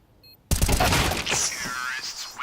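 A single sharp gunshot bursts out in the Counter-Strike video game during a professional esports match, followed by a lingering tail and mechanical rattle while a caster talks over it.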